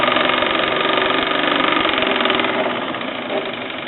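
A 1965 Mamod TE1 model steam traction engine runs on a Meccano rolling road, giving a steady, loud mechanical chuffing rattle with a fast even rhythm that eases slightly toward the end, with no voices.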